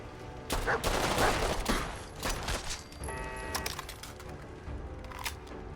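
Turret gunfire in Fallout 4 inside Kendall Hospital: a loud burst of rapid shots comes first, then scattered shots and clatter follow at a lower level.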